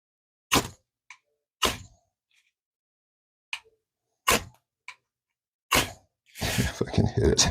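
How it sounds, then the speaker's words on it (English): A fire steel is struck against a cleared patch of coating, giving several sharp separate scrapes spaced across quiet gaps, then a longer rough hiss of sparks at the end. "that's what you need to use with your fire steel"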